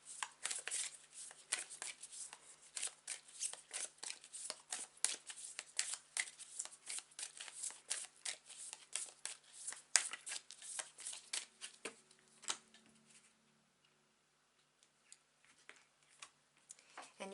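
Tarot cards shuffled by hand in a long run of quick, crisp riffling flicks and slaps for about twelve seconds, close and fairly loud, then stopping into near silence with a few faint card taps at the end.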